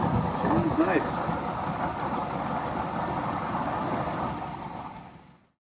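A 1986 Toyota SR5 Deluxe Extra-cab pickup engine idles steadily at moderate volume for several seconds, with a faint voice near the start, before the sound cuts off.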